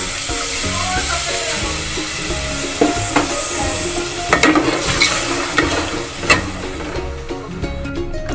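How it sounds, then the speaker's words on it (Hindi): Milk poured into roasted flour in a hot pan for white sauce pasta and stirred, a soft sizzling hiss with scraping spoon strokes and a few sharper clinks, close and continuous, with no talking. "मैदा मैंने भून लिया है, अब मैं इसमें 2 कप दूध के डालूंगी।"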